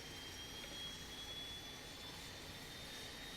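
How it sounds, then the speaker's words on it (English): An Airbus A320 auxiliary power unit spooling up in a flight simulator, a faint, steady jet-like whine and hiss held at one even level, with no voices. "listen to this APU spooling up"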